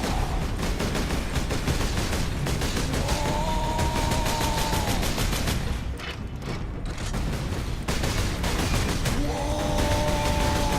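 Dense, sustained gunfire and booms from the video game Space Marine, a continuous loud barrage of rapid shots with mechanical whines rising over it and a short lull midway.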